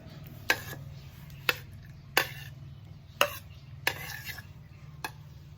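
Minced beef being stirred and mixed in a bowl for northern Thai sa jin, with six or seven separate scraping, clinking strokes spaced about a second apart over a low steady hum, close and fairly quiet.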